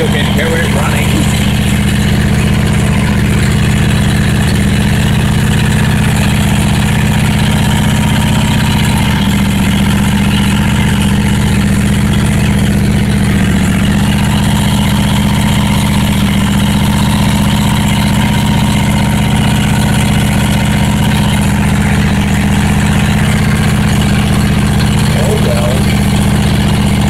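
A Dingo 220 compact loader engine idles steadily and loudly with a constant low rumble throughout, with no obvious revving or change in pace.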